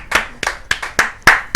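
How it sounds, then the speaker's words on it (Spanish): Six sharp hand claps in a loose, uneven rhythm, close and fairly loud, from a small group celebrating reaching 4,000 subscribers; no voices. "un aplauso por favor"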